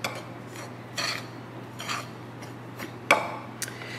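A spoon stirring light butter into a lemon crumble mixture in a bowl, heard as soft scraping strokes and a few sharp clinks against the dish, close and fairly quiet, with no one talking.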